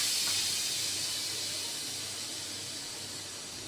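Steady, loud hiss of steam escaping from a pressure cooker of cooked tomato dal, a continuous broadband rush that slowly eases over several seconds with no voices.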